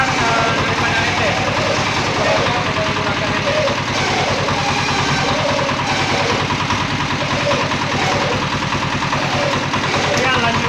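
The engine of a feed mixing machine runs steadily at a constant idle-like drone, loud and continuous throughout, with some talk mixed in.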